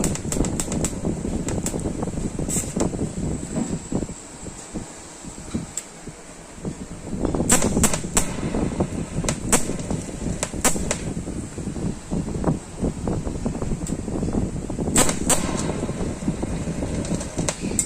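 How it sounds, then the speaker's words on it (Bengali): An electric arc welding machine runs at full amperage during repair work, giving a steady close crackling buzz broken by sharp bursts and brief pauses. "পাচ্ছেন ঝালের সাউন্ডটা কি সুন্দর"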